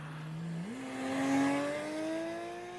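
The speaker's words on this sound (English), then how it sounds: "we did find a spot where I could get some drive-bys here" A Porsche Cayman S drives past on a mountain highway in the Colorado Rockies, its engine note rising as it accelerates and swelling to a peak before easing away, heard from the roadside with no talking.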